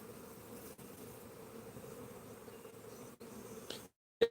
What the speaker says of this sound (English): Somebody said it's a healthy swarm.